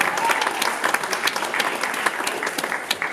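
An audience at a student film festival award night claps for the winners, a loud, dense burst of applause that carries on steadily with sharp individual claps standing out.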